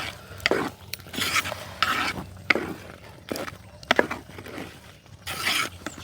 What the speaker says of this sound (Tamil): இது நல்ல வடிவாக கிண்டி விடணும்.